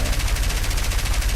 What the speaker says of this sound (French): Ce sont les anti-aériens.